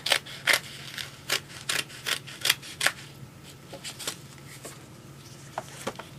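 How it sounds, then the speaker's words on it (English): Scissors cut a piece of burlap for the hinge of a handmade Valentine's Day card, a quick run of close, crisp snips at first, then fainter, sparser cuts trailing off. "So I'm going to cut a piece of my burlap out to fit that hinge part."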